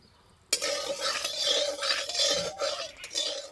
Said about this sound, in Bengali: তেলে দেবো শুকনো লঙ্কা